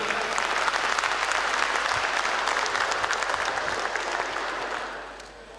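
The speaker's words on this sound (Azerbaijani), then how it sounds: "Daha da ürəklə alqışlayaq" Audience at a religious concert clapping steadily, a dense wash of applause that holds strong for several seconds and then fades away toward the end.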